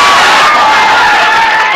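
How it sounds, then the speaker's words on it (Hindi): Students in a Bihar Sharif physics class cheer and shout loudly with steady crowd noise, a dense close roar of young voices lasting the whole moment. "इनके लिए एक बार ताली लगाइएगा आप लोग।"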